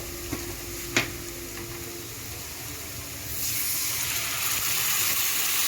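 Vinegar poured into a hot pan for Egyptian trotter soup with garlic sets off a steady rising hiss and sizzle that swells after a few seconds, preceded by a couple of faint clinks.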